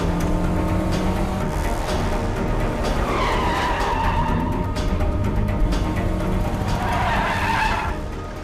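An auto rickshaw drives on a road in a film scene, its engine and tyres giving a steady, loud roar, with a rising, sweeping whine around the middle and again near the end before it eases off.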